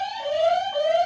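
Quiz buzzer pressed during a trivia game night, giving a single steady electronic tone that holds for about a second, loud and clear with no talking over it.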